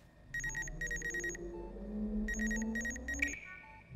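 Body scan from the game Among Us, a quick electronic beeping pattern in repeated bursts over a low hum of game sounds, moderately loud.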